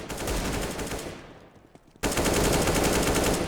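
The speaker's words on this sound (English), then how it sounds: "I can hear him firing his pistol" Rapid bursts of gunfire in the video game CS:GO, loud and dense, fading out briefly before a second sustained volley cuts in abruptly.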